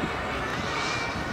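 Kerosene-burning jet turbine of a radio-controlled Saab 37 Viggen model flying at an RC model show in Bolešiny, a steady loud broadband roar with a faint high whine, continuous throughout.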